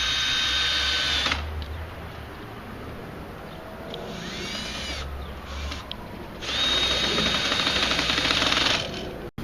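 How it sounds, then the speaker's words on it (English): A power drill drives screws to fix the middle truss of a chicken coop into its side panels, with two loud sustained whines bracketing a softer stretch of rustling and handling. "the middle truss is installed by screwing into the side panels"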